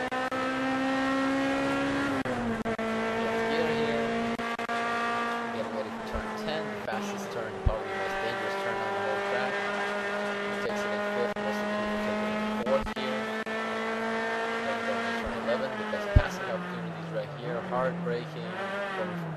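Touring race car in the United States Touring Car Championship, engine droning steadily with strong harmonics as it powers out of a corner, pitch shifting with gear changes, close and loud, with occasional sharp knocks.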